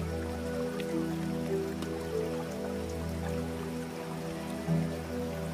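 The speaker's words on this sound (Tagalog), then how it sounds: "Tsaka umuulan ngayon" Steady rain patters softly with faint drips against a low background hum, no voices, at a hiking trail in Wang Chung, Hong Kong.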